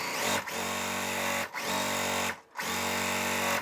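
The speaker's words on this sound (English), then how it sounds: "I'm going to sew 1/4 inch away from the center." A sewing machine stitches quilt block fabric a quarter inch from the center, its motor running loud and close in three steady runs separated by brief pauses.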